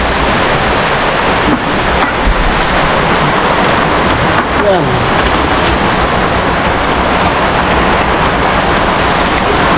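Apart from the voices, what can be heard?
heavy rain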